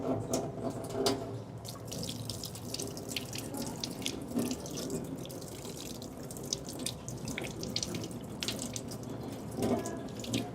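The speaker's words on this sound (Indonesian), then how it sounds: "Setelah itu kita melakukan cuci tangan 6 langkah." Steady stream of water running from a tap into a sink during hand washing in a clinical setting, constant splashing hiss with light drips and rubbing, continuous and moderately close, no talk.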